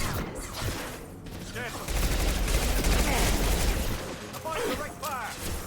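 Mid-battle gunfire in the video game Mass Effect 2 rolls on steadily under a busy mix of game sound, with sustained rapid shooting and scattered impacts while voices talk over the action.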